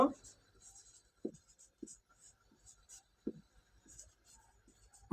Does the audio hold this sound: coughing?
no